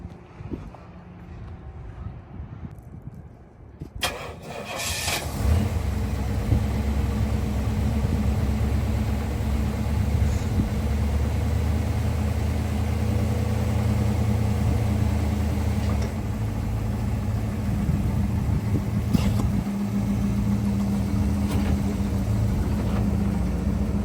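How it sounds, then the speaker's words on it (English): A 1978 Pontiac Trans Am engine turns over and catches about four seconds in, then settles into a loud, steady idle rumble close by. Wind buffets the microphone before the start. "But we are going to fire it up now, show it go down the road"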